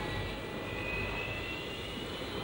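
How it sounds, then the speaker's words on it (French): A Dassault Mirage III jet, a 1961 aircraft, takes off from the runway with a steady, loud roar of broadband engine noise that holds constant throughout, no voices present. "On voit ici l'avion qui décolle de la piste 10 et qui prend de la vitesse et qui monte."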